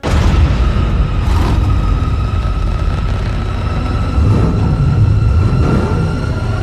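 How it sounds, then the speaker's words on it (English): Batmobile engine from The Batman film starting up, a loud, deep, rumbling roar that holds steady and heavy for several seconds with a rich low-end boom. "the standout moment is when the Batmobile starts up."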